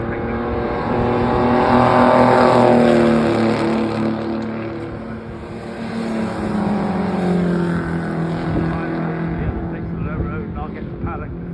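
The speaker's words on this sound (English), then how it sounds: "That was 1400 supercharged cc's of the Bellevue Specials, just to chime in at just the right moment down the straight" A Bellevue Special race car with a supercharged 1400cc engine roars down the straight, a loud, harmonic engine note rising and falling as it passes close by, with a second sweep following.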